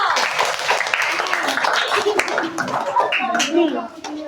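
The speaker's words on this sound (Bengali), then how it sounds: "নৌকা বানিয়েছো হাততালি দাও" Children applaud a classmate's handmade paper boat with a steady spatter of small hands clapping, fairly close and lively, mingled with childish voices speaking underneath.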